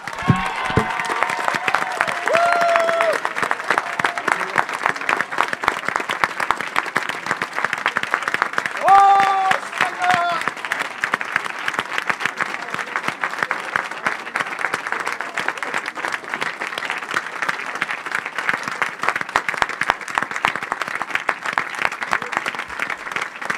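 A church congregation at a French Bible training session applauds steadily, a long, dense wash of clapping from many hands with some cheering, continuous and fairly loud, with a voice calling out briefly over it.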